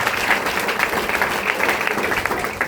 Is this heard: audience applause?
yes